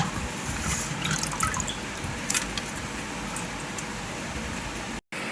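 Water steadily drips and trickles from gongura leaves freshly washed with salt, a continuous close wet patter with a few brighter splashes and no talk over it.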